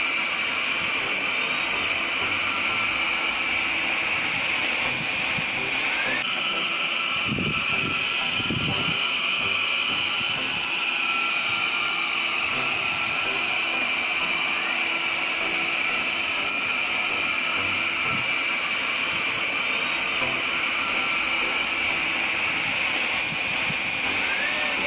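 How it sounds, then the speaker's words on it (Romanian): A steady mechanical whir with a broad hissing hum from a HOBOT 388 window-cleaning robot running continuously, with a couple of faint low bumps partway through. "Zgomotul produs de Hobot 388 nu este unul deranjant, este similar, aș spune,"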